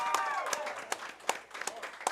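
An audience claps at an evening coach's show honoring the coaching staff, with scattered sharp hand claps and crowd noise rather than a full sustained ovation.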